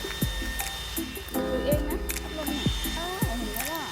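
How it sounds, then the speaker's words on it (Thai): An electric fan running at high power at a campsite gives a steady, loud broadband whoosh that fills the whole stretch, with a person talking over it. "สำหรับเรื่องเสียงของพัดลมในคลิปต้องขออภัยด้วย"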